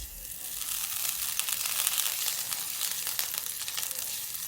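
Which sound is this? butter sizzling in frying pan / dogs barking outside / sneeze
butter sizzling in frying pan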